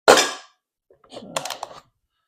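A custom Crosman 2260 .22 CO2 air rifle fires one sharp, loud shot with a short decaying tail, followed after a pause by quieter clicks and handling rattles nearby.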